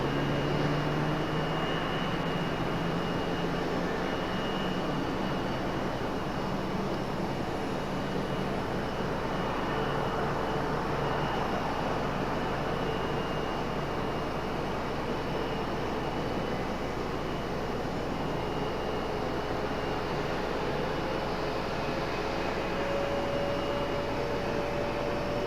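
Jet airliners idle on a taxiway at Raleigh-Durham airport, a steady broadband engine hum and whine holding at moderate distance throughout, with a faint rising tone late on.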